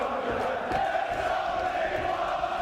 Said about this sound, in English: And now the crowd into their usual sporting cheers.